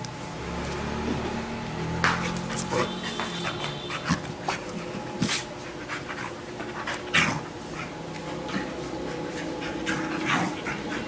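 A dog pants rapidly and close by, with a few soft whimpers and sharp bursts of breathy noise throughout.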